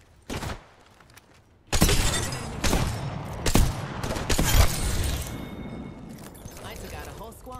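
Gunfire in a shooter video game, sharp bursts of shots and shattering impacts arriving in clusters after a quiet start, loud and close, with a voice talking over parts of it.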